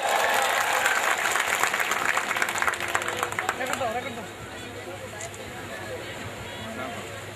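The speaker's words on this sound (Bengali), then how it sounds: "আরেকবার করতালি।" An audience at a picnic in Charhoripur claps loudly to welcome a guest and his family. The dense applause fills the first few seconds, then fades into a murmur of voices and background chatter.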